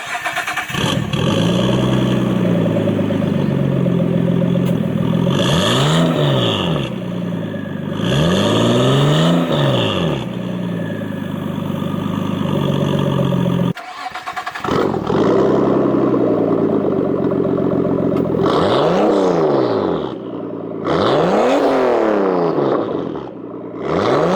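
A Nissan Skyline R34 idles and revs hard, first through a Kakimoto exhaust and then after a cut through a Tomei titanium exhaust. Each exhaust gives a few close, loud rising and falling revs over a rumbling idle.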